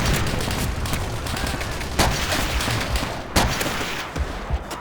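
An StG 44 assault rifle fires in Call of Duty: World at War, with loud, close automatic gunfire that continues throughout and sharp bursts standing out at intervals.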